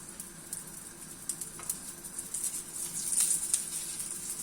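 Dough frying in a little oil in a home kitchen pan, giving a soft, steady sizzle with light crackling pops and a brief rise in intensity near the end, with no talking over it.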